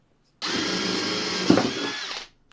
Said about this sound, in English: I drilled that hole bigger than the pilot drill for the hole saw.